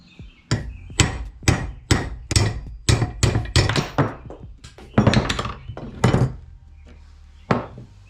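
A socket being hammered to drive out an A-arm bushing on a 2020 Polaris RZR Pro XP, a steady series of loud, close metallic blows, about a dozen strikes with brief pauses, no talking.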